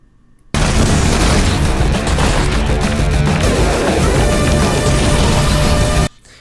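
A grenade explodes in the VR game Half-Life: Alyx: a loud, sustained blast with crashing, rumbling debris that fills several seconds before cutting off abruptly.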